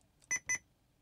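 Two quick electronic beeps in a row, high-pitched and clear, from the dashboard unit of a Fiat Ducato motorhome in an otherwise quiet space.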